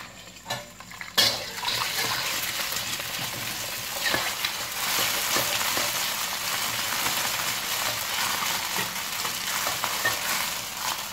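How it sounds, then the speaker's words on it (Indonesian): Loud, continuous sizzling of beaten eggs frying in a hot pan, starting abruptly after a brief clatter and holding steady, with occasional utensil scrapes. "Lalu kita goreng."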